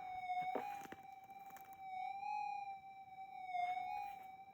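A Minelab GPZ 8000 gold detector gives a steady electronic threshold tone that swells faintly twice, a weak response to a one-gram nugget seven inches down, with brief light scraping at the start.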